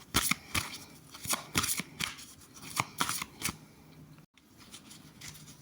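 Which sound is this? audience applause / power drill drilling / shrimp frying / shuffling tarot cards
shuffling tarot cards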